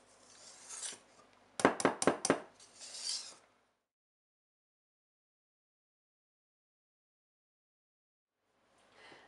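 A spatula scrapes and folds lime cupcake batter in a bowl, a few quick rasping strokes in a burst followed by softer stirring, then a long silence before a faint return.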